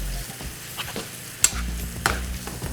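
Pasta is stirred into a finished fresh sauce in a pan, giving soft wet stirring and gentle sizzle, with two brief sharp clinks of a utensil against the pan.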